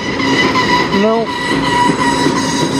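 CN freight train passing close by on the Strathroy Subdivision, loud steady rumble and rail noise with a brief horn-like tone partway through; a voice speaks briefly.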